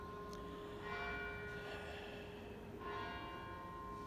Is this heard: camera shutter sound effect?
no